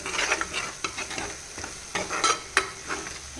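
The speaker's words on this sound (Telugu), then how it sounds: "ఇది మొత్తం పచ్చివాసన పోయే వరకు ఫ్రై చేసుకోవాలి" A spice paste of ground chili, turmeric, cumin and garlic sizzles and fries in a pan, with close, repeated scrapes and stirs at an uneven rhythm, alone with no voices.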